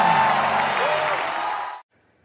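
A congregation cheering and applauding during an online church service, dense clapping and shouts of praise under a voice and music, loud and steady before cutting off abruptly into near silence.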